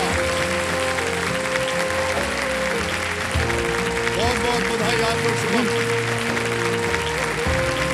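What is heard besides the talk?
studio audience standing ovation applause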